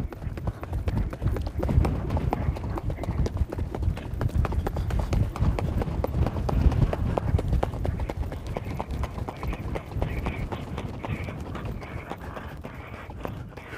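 Hooves of a ridden horse in an arena give a steady, rhythmic clip-clop at a lively gait, close and continuous, with a rider's voice heard faintly underneath.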